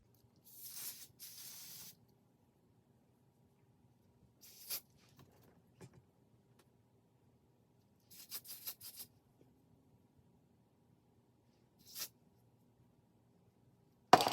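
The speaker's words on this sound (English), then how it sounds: "I'm going to use the Kiss Lace Adhesive Spray to put it on today" Kiss Lace Adhesive Spray hisses out of an aerosol can in several short bursts separated by quiet pauses, close and fairly soft, with one longer spray near the start.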